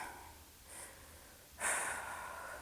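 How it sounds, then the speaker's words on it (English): Heavy breathing during a deep seated glute stretch on the floor, with a soft breath and then a stronger, louder exhale, close to the microphone. "We're breathing into it."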